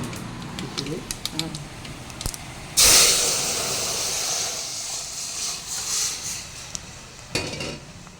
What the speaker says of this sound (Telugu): ఇలా పోసుకోవాలి తాలింపు ఎప్పుడైనా కానీ